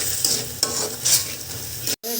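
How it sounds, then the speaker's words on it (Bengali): A spice paste with turmeric and salt sizzles as it is sautéed and stirred in a pan, with close scraping strokes over steady frying, cut off by a brief silence near the end. "হলুদ দেব, পরিমাণ মতন লবণ দেব, দিয়ে মশলাটা ভালো করে কষাই নেব।"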